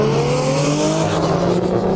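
A car fitted with a custom rear-mount single turbo, making about 500 horsepower on a stock motor, revs loudly up close, with a rising engine tone sweeping steadily upward throughout without a break.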